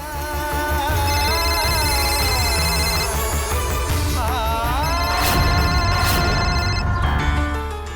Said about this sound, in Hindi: बाबूजी के फोन हो।